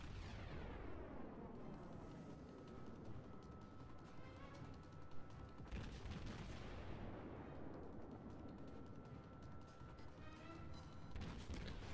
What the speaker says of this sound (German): ich schieße jetzt damit AP rein